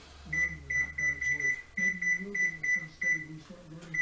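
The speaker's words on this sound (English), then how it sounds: "set our timer for 10 minutes" Short electronic beeps from an oven timer being set for a pie bake, a string of bright regular chirps in quick clusters over a low kitchen hum and faint background voices.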